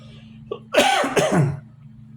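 A single rough cough fit, two or three harsh bursts close to the mic, over a low steady hum.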